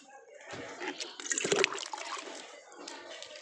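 Water is poured and splashes over a car during a hand wash, a close burst of sloshing and splatter that peaks midway and then settles into trickling.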